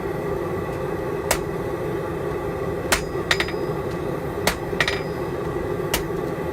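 A hammer taps hot metal into place for a forge weld on a basket twist, giving a handful of sharp, separate metallic strikes spread over a steady background hiss.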